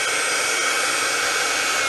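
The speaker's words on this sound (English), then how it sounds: "So there, straight away, the compressor kicked in." An air compressor runs off a power inverter as a steady, loud, continuous whirring roar with a broad hiss, holding even from start to end with no voices.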